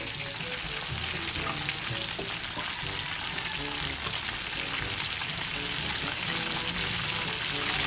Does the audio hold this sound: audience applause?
no